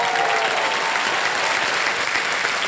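Studio audience on a Hindi TV quiz show, Kaun Banega Crorepati season 15, bursts into dense, sustained applause that fills the whole moment at close, even loudness.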